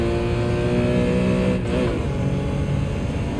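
A BMW race car in Gran Turismo holds a loud, sustained engine drone that rises and falls as it accelerates and shifts, with a brief dip mid-run and no talk over it.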